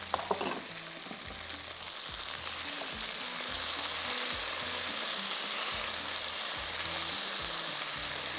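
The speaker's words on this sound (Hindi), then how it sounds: "तो थोड़ा सा फ्राई होने देंगे ताकि फिर ये मसाले में जाकर ये गलेंगे नहीं" Whole spices sizzle in hot oil for dry chili chicken, a dense constant frying hiss with a brief clatter at the start and a low rhythmic mechanical hum running beneath.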